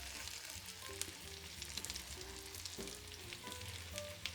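Potatoes and red peppers fry in red pepper oil in a pan for an Italian-style brunch, giving a steady close sizzle with small pops and crackles throughout and no talking.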